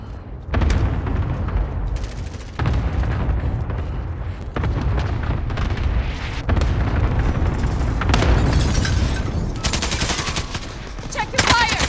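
Gunfire in the video game Call of Duty: Warzone, loud, close bursts of rapid automatic fire and booming blasts in repeated volleys, with brief gaps between them and heavy low rumble underneath.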